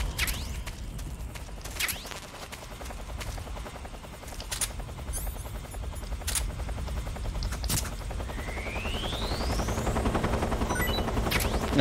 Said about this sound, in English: now I've got to dodge helicopters. Fucking Hind D.